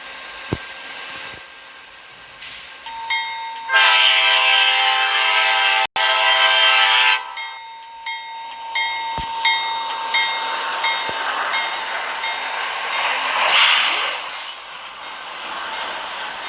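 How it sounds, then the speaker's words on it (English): A train passes at Orion with a loud, sustained multi-tone horn blast midway, then continued rumble and rail noise as the cars roll by, with a second fainter horn near the end. "We have a train,"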